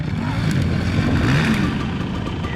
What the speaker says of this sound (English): Sounds like the bike needs some gas in it.